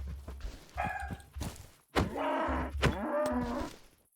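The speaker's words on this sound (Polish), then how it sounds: "Pieski mordę darły." Dogs barking in Minecraft with the Dread horror modpack, several loud harmonic barks and yelps in quick bursts with thuds between them, close and dominant with no talk over them.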